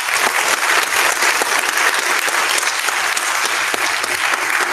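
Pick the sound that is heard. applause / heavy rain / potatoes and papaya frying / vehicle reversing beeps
applause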